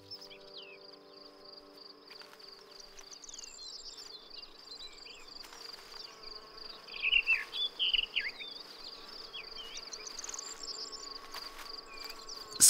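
Insects hum and buzz around nectar-rich spring flowers in a European meadow, a steady close drone with a sharper burst of buzzing near the middle, alone with no talk.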